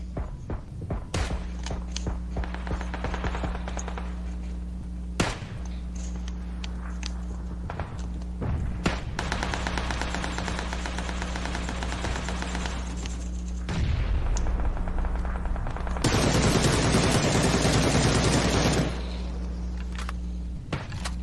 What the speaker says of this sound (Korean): 선생님 이제 쏘고 있는 거죠?